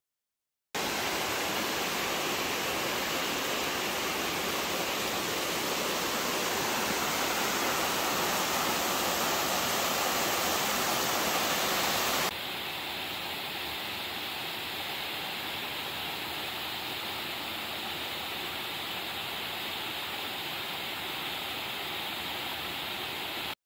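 Waterfall cascades in a forested canyon give a steady, dense roar of rushing water, close and constant throughout, with a slight shift in tone partway through and no voices.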